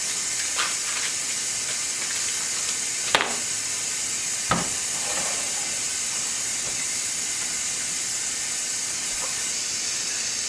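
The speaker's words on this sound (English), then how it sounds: "We're going to melt a half a cup of butter in that same pan." Half a cup of butter, one stick, melts in a pan with a steady soft hiss and sizzle, broken by a couple of brief clinks or taps.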